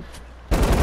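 An LMG machine gun in Fortnite fires a rapid, loud burst right at the end, after a half-second of quiet background.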